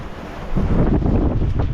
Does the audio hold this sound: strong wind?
yes